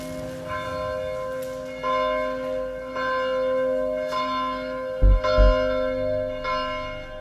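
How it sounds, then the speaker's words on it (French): Church bells of an old convent tolling in slow, regular strokes with long, resonant decay, heard fairly close, with a couple of heavy low thumps near the end. "Au son des cloches, en plus, on est dans un ancien couvent apparemment."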